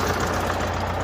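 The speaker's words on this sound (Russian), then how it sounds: "Вот кто, если послушает движок, сразу поймет, что стучит." A car engine with a knocking fault runs steadily at idle, a loud, continuous low rumble close to the listener, with no voices.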